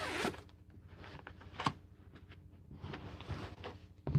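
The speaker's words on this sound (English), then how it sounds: "the zipper." A zipper on a vinyl-pocket cross stitch project bag gives a few soft, quiet rasping pulls with light handling rustle, close by and alone.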